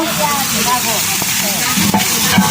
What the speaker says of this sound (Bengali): এখানে মাংস ভেজে নিচ্ছে মাংস হচ্ছে ভাইজা তারপর রান্না করব